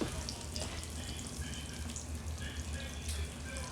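Butter sizzles steadily in a hot skillet, a continuous bright frying hiss with small crackles, close and moderately loud, with no speech over it.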